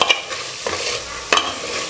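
Chopped coriander and mint stirred into a bottle gourd vegetable biryani in a pressure cooker, with a few scraping strokes over a soft steady sizzle, close and alone without talk.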